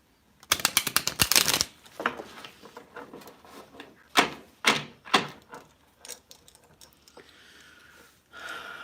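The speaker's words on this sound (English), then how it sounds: "Let me just shuffle in and then see who else I'm called to pull a card for." Tarot cards are shuffled by hand, a quick riffle-like burst early on followed by several separate crisp snaps and slaps, close and fairly quiet with no talking.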